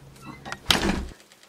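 A door is opened to let a pet in, giving a short thunk and rattling slide that lasts under half a second, close by, with brief faint talk just before it.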